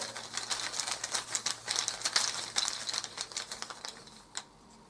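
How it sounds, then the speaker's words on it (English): Board game cards for Eldritch Horror being shuffled by hand, a rapid run of crisp riffling and flicking clicks in uneven bursts, close and fairly loud, ending with a last sharp snap, with no talking. "let's shuffle these up a bit and let's pull from the bag"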